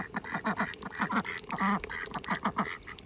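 Duck on a frozen, icy ranch quacking repeatedly in a rapid, chattering series, close and fairly loud against a faint background.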